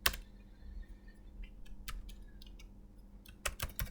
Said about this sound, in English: let's type a message